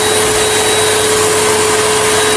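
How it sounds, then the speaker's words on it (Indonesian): An electric hand dryer in a toilet roars loud and steady at close range with a faint whine over the airflow, then cuts off abruptly. "saat di toilet dikagetkan oleh suara pengering tangan yang berbunyi"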